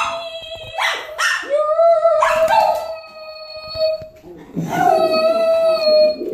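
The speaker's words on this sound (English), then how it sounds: "You seen my dog sing, didn't you?" A dog sings in drawn-out, wavering howls, several long pitched wails with short barks and yips between them, loud and close, while people talk now and then in the background.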